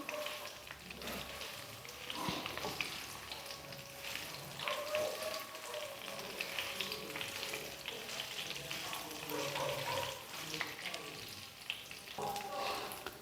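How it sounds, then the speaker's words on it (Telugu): Curry leaves and dried red chillies fry in hot oil with a steady, crackling sizzle and occasional stirring, moderately close and continuous throughout. "ఈ కరివేపాకు అలాగే ఎండుమిరపకాయలను కూడా మనం ఈ ఆయిల్లో కొంచెంసేపు ఫ్రై చేసుకుందాం"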